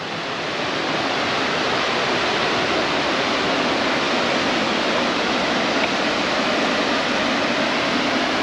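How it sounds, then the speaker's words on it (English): Waterfall pouring into a big green pool along an Oregon hiking trail, a loud, steady broadband roar of falling water that holds constant throughout with no voices. "And another waterfall into a big green pool."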